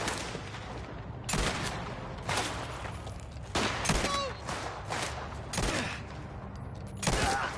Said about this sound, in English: Right, we'll take a rifle now rather than a shotgun.